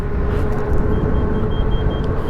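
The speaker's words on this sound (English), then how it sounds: "Oh, there's a car coming." A car approaches and passes on a street, its engine rumble and road noise steady and close, heard from an electric adult scooter riding along the street.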